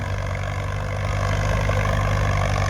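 A Ford 6600 tractor engine idles steadily nearby, a constant low diesel rumble with an even, unbroken throb and no voices.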